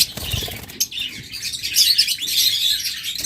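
Pet lovebirds, cockatiels and budgerigars chirp and tweet in a steady, busy chorus with some wing flapping, fairly close and continuous throughout.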